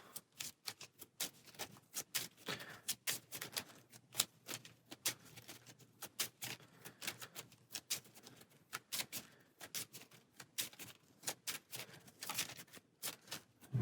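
A deck of game cards being shuffled on a table, a long run of quick, sharp riffling clicks and snaps in uneven bursts, close and fairly quiet with no speech.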